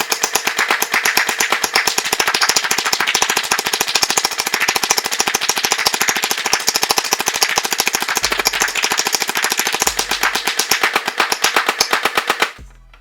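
Dinosaur-head gel blaster firing on full auto, a loud, rapid, steady stream of mechanical shots that runs nonstop for about twelve seconds and then cuts off abruptly as the ammo runs out.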